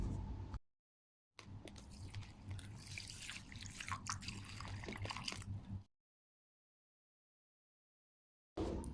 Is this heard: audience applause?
no